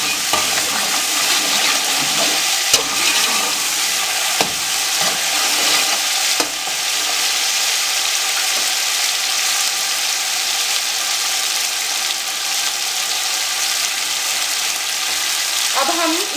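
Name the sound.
vegetables being fried and stirred in a pan for pulao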